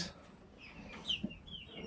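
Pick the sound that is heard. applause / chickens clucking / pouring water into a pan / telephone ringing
chickens clucking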